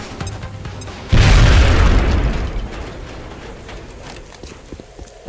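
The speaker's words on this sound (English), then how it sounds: "Now toss your grenade at the enemy in front of you." A grenade explodes in the XCOM Enemy Within video game, giving one sudden loud boom that decays into a rumbling tail over several seconds.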